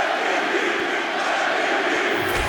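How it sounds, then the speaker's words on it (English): A video game arena crowd in EA Sports UFC roars steadily after a round ends, a dense, continuous wash of cheering and voices at constant loudness throughout. "So the crowd voicing its appreciation after that round"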